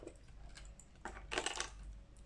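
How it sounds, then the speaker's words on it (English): Small clicking sounds at a Disney Doorables toy unpacking, a few faint light clicks and taps with a brighter burst of rattly clicks near the middle, quiet against the background. "I hear your clicking sounds."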